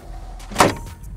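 The tailgate step on a Ford F-150 pickup truck deploys with one short mechanical clunk midway through, surrounded by faint background noise.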